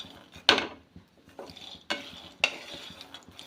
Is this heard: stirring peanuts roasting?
yes